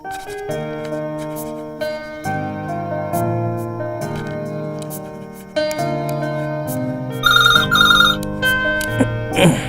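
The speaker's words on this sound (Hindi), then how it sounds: "ओके पारू, जरा फोन उठाना" A melodic phone ringtone plays in a scene from a Hindi action film, a loud, steady tune of shifting notes that rings alone for about ten seconds.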